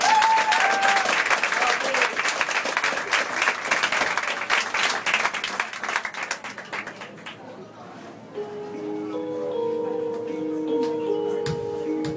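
An audience applauds a singer with dense, lively clapping for about seven seconds, then it fades as soft sustained instrumental tones of a song intro take over.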